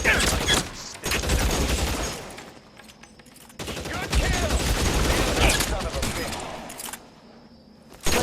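Repeated gunfire from a firefight in the video game L.A. Noire, dense bursts of shots crackling across most of the stretch with brief lulls, loud and close, with occasional voices shouting over it.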